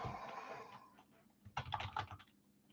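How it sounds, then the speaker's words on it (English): Someone types on a computer keyboard with quick bursts of close, light key clicks, trailing into a brief pause and then a denser flurry of taps. "I guess you guys can't see what I'm typing."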